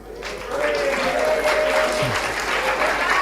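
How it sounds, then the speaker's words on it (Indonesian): An audience at an education and motivation seminar applauds Firman with a dense, steady burst of clapping that swells after a brief start and holds loud to the end, with voices and a short tonal sound underneath. "Kita beri aplaus ke Firman."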